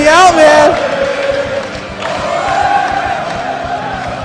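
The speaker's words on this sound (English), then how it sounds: "the crowd really getting into it over here" A crowd at the EVO 2012 King of Fighters XIII grand finals roars and cheers in a large hall, a loud burst fading into sustained crowd noise under excited commentary.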